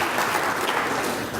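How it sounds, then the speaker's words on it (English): An audience gives a round of applause at a lecture, a dense, steady wash of many hands clapping that stays even and close throughout the short stretch without any voices. "round of applause"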